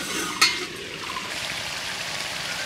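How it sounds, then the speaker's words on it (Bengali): Tangra fish and green tomato curry cooks in a pot as it is stirred, giving a steady close sizzle with one sharp utensil clink early on. "ঢাকনা নামানোর পর আমি 15 মিনিট আস্তে আস্তে নেড়ে ছেড়ে নিলাম।"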